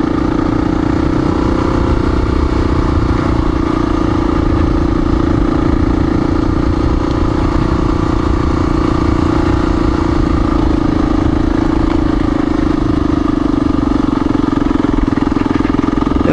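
Honda XR400R dirt bike climbing a steep forest road, its engine droning steadily and loudly up close for the whole stretch, with a constant mid-pitched hum and clattering mechanical texture.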